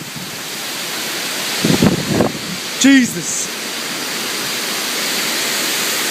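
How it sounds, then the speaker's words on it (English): Heavy rain pours down outside in Alpharetta, Georgia, a dense steady wash of noise throughout, broken midway by a short exclamation from a nearby man and a brief squeaky sound. "this rain is coming down"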